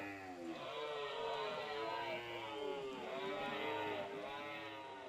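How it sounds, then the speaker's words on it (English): Caribou in the video game Rimworld giving long, drawn-out bellowing moos that overlap one another in a faint, continuous stream. "The mooing of the caribou."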